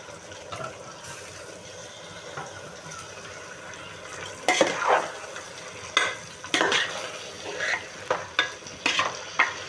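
Mutton sizzles while frying in a pot for biryani, with a steady low hiss and sharp scraping stirs that grow more frequent and rhythmic toward the end.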